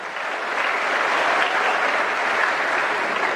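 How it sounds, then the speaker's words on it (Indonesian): University students at a motivational talk at a state polytechnic clap together, a continuous dense applause from a large hall audience at steady loudness throughout. "Tepuk tangan dulu untuk kita semua."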